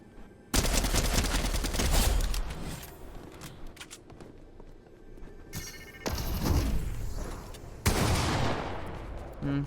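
MK assault rifle fire in Fortnite comes in loud, close automatic bursts that start abruptly, with several sustained volleys separated by short gaps and echoing tails, no voices.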